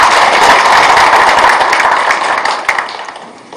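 Hearty applause from the assembly at a livestock cooperative's annual general meeting greets the county council chairman, many hands clapping together loudly and then tapering off into scattered claps.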